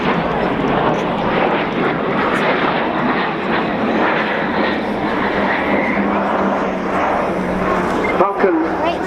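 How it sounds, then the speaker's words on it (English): The Avro Vulcan XH558 delta-wing jet bomber roars overhead at the Dunsfold Wings & Wheels airshow. The loud, continuous jet rumble is heard outdoors under crowd noise and talk. "we are about to get the Vulcan"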